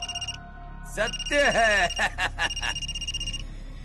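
An electronic telephone ring tone chirps in repeated bursts while someone speaks over it.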